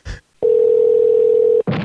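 Steady telephone dial tone holds for about a second, clean and continuous, with brief bursts of noise just before and right after it cuts off.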